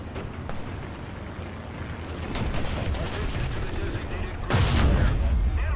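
Gunfire from an SPAA battle in War Thunder rumbles as a continuous low, dense barrage, swelling louder toward the end with a heavy burst of shots and booms.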